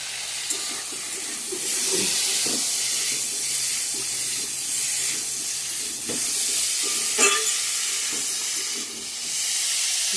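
Ground coriander, cumin and chilli powder fry in a hot pan, giving a continuous loud hiss and sizzle with a few soft stirring scrapes, and no voices.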